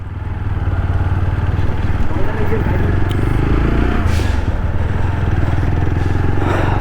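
A motorcycle ridden during heavy monsoon rain in North Bengal, its steady engine drone loud and close, with a person talking over it.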